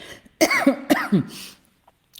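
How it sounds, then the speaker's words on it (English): A few sharp coughs in quick succession, close and fairly loud, followed by a brief pause and a faint rustle at the end. "I have to cough just a second."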